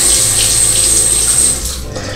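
A safety razor rinsed under a running tap, a loud steady rush of water that thins out near the end, with no talking.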